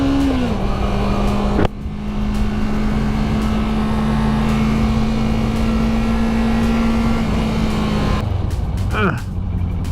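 A Suzuki B-King motorcycle engine runs loud and close, holding a steady high rev for several seconds before the note shifts and rises near the end; people talk briefly around it.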